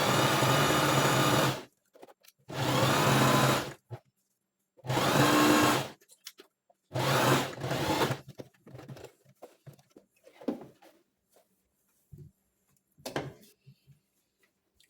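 A sewing machine stitches a sleeve seam for a spiral rose sleeve in four loud, close bursts of whirring, each about a second or two long, separated by pauses filled with faint handling and fabric rustles.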